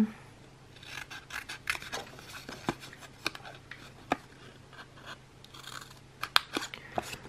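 Scissors snip a small piece of nail art material for a tropical summer manicure, giving a series of close, quiet crisp cuts and rasping clicks at an uneven rhythm, with no talking.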